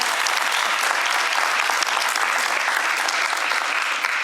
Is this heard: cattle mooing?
no